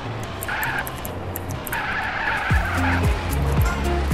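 A fire truck in GTA San Andreas drives with engine drone and repeated tire skids and squeals, steady and fairly loud with no voices.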